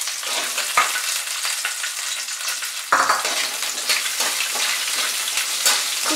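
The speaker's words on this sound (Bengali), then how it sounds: "রসুনটা ভাজা ভাজা হয়ে গেলে পেঁয়াজগুলো দিয়ে দিলাম" Sliced onions hit hot oil in a pan where chopped garlic is already browning, giving a loud, steady sizzle and crackle with sharp bursts as pieces are stirred in; no voices.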